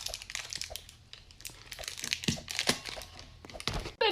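A chocolate bar's wrapper being unwrapped, with repeated crinkling and tearing bursts of thin foil or plastic, close and moderately loud, running irregularly for about four seconds with no talk.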